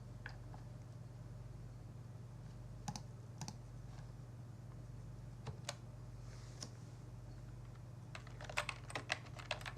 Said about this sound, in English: You can type something else.